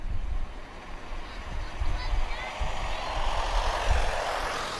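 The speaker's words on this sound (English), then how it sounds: "26734 A321neo arriving from Lyon." An EasyJet Airbus A321neo airliner arrives at Lisbon Airport, its engines producing a continuous broad roar with gusty wind noise on the microphone, moderately loud and at a distance.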